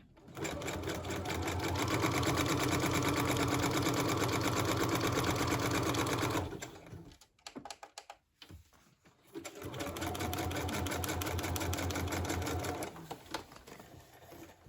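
A sewing machine runs a zigzag seam on a journal cover in a fast, rapid-fire stitching rattle. It runs continuously, pauses with a few clicks and handling noises, then starts stitching again.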